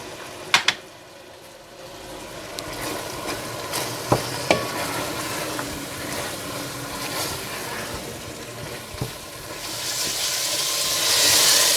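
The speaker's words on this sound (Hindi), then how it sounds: "नमक, सुरख मिर्च पाउडर, पिसी हुई हरी मिर्च और हल्दी पाउडर डालकर अच्छी तरह से भून लें" Fish biryani masala frying in a pan with salt, red chili powder, ground green chili and turmeric, a steady close sizzle with scraping stirs and occasional clinks of the spoon, the hiss rising toward the end.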